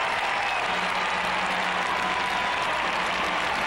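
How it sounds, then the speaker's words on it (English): Sustained crowd applause fills a college gymnastics arena during a Utah at Georgia NCAA women's meet, broad and constant clapping with a faint voice briefly audible beneath it. "Appreciative crowd here."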